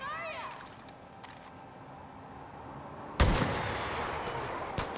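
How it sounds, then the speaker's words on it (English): Gunfire in the video game Far Cry 5: one loud, sharp shot cracks out after a stretch of quieter ambient sound, then its echo rings on, with a second, lighter shot near the end. "Who's shooting?"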